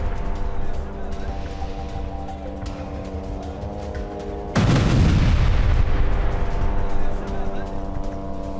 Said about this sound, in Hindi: तुलकर्म में आईडीएफ के व्हीकल को कैसे उड़ाया देखिए।